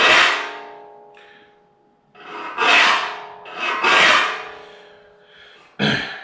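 A hand file rasps across the teeth of a hand saw being sharpened. Several close, loud strokes come in an uneven rhythm, with short pauses between them.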